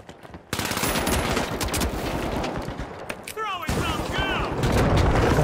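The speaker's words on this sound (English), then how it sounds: "I'm being sniped at" Rapid sniper and automatic gunfire in the video game The Finals, loud and dense from start to finish with chaotic combat noise and whistling effects partway through.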